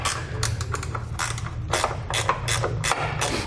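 Socket wrench ratcheting on the bracket bolts of a 2009 Jeep Wrangler during a nerf bar install, a series of quick clicking bursts repeating close by in a garage, with no voices.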